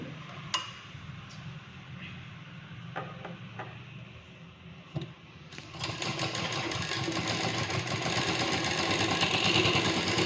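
Sewing machine stitching around a blouse neckline, a few quiet clicks and handling taps before the motor starts about halfway through and runs on as a steady, close, rising whir.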